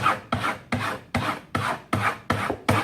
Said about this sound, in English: we're getting lots of this little sanded filings down